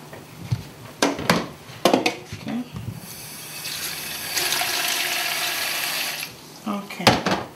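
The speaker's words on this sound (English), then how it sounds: "So I'm going to take the beef over to the sink and wash it." Raw beef rinsed in a kitchen sink under a running tap, a steady rush of water lasting a few seconds, framed by clattering knocks and handling sounds before and after.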